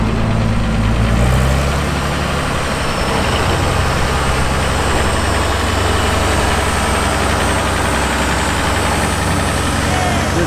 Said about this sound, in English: Here comes a Farmel 706. From the 1960s.